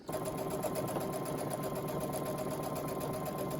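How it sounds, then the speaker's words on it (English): A sewing machine stitches binding onto a fabric wrist sling, running in a steady, continuous buzz close up from start to finish with no pauses and no voices. "I am going to sew the binding on"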